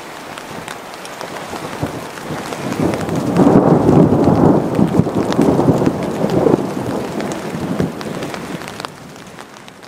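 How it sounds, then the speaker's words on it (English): Steady rain patters throughout, swelling into a heavier, louder downpour in the middle before easing off again, with a low rumble of thunder underneath, during a storm in the wilderness. "It's just raining lightly."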